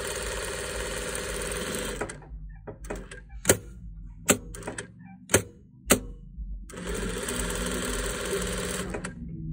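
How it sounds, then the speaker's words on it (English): A sewing machine stitches down the sides and bottom of a fabric face mask. It gives two long bursts of steady, close motor whirring, with a pause between them broken by a few sharp clicks. "And now you're gonna sew down the sides as well as the bottom"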